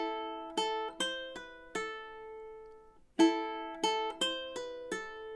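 Plucked ukulele notes, bright and close, in two short phrases; some notes sound without fresh attacks, like pull-offs, each ringing and fading.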